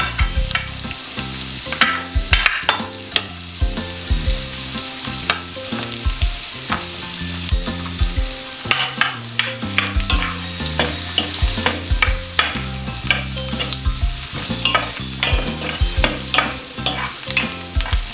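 Garlic tossed into a pan of already frying onion sizzles steadily while a utensil stirs and scrapes, with clattering strikes scattered throughout, close and fairly loud with no talking.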